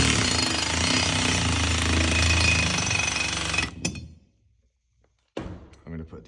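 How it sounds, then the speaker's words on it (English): An impact driver drives screws through aerial silks mounting brackets, a loud continuous rattling hammer for nearly four seconds that stops abruptly, then a short silence and a few softer knocks and clatters. "I happen to have this impactor and it works good"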